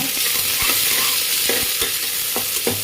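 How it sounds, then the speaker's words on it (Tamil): Onions being sautéed in a pan for vegetable biryani, giving a loud continuous sizzle broken by several distinct scraping stirs and spoon knocks against the pan. "நல்லா வதக்கி விட்டுக்கோங்க"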